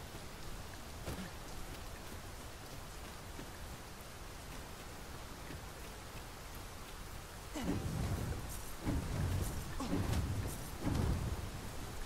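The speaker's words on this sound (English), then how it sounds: "It started raining, Master." Steady, soft rain pours in the Dragon's Dogma 2 video game, an even wash of hiss with a few faint voices and thuds breaking through toward the end.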